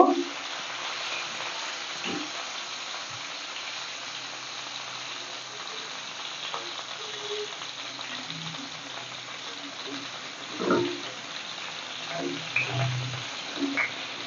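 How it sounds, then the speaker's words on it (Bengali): Pointed gourd fries in a pan with a steady, close hiss of sizzling oil throughout, broken by a few soft clinks and stirring knocks. "উল্টো পাল্টে আমি ভালো করে একটু ভেজে নেব।"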